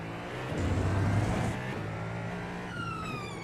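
A GTP prototype race car in a sim racing game roars past a slower class-leading car, its engine note swelling to a loud peak and then easing away, with a steady drone underneath.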